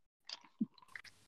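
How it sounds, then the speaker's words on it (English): Close-up mouth sounds from someone drinking, with a few short wet sips and gulps, one deeper swallow-like thump in the middle and soft smacking after, all quiet and intimate. "Do you like my drinking ASMR?"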